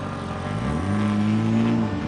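The number 999 endurance race car pulling out of the pit lane, a close engine note rising and revving over a couple of seconds, loud and alone without speech.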